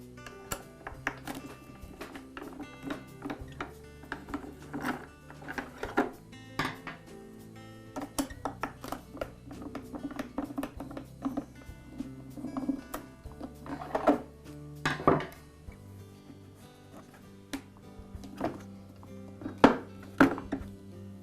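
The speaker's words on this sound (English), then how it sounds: "Now I'll remove the two screws that secure the top handle to the pump." Screws being removed from the top handle of a Porter Cable air compressor pump, heard as a run of close, sharp metallic clicks, clinks and thunks at an uneven pace, with no voices.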